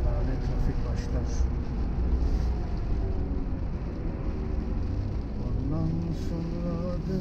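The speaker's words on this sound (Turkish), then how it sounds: "Burada lanet trafik başlar." Continuous city road traffic in snowy Toronto gives a steady low rumble of engines and passing vehicles, with a voice talking over it.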